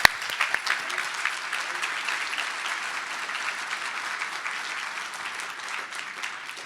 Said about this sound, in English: once more, a round of applause